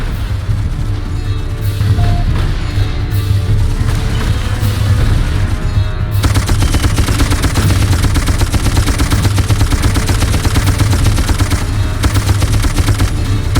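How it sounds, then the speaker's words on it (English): Sustained machine gun cover fire in the video game Darkest of Days, rapid continuous bursts that grow denser and louder partway through, with distant booms mixed into the barrage. "Get your ass on that gun and provide cover fire"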